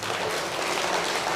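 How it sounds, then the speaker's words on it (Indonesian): An audience claps for Batak women at a gathering, a dense, steady burst of applause with no voices on top. "Tepuk tangan jo tu perempuan batak."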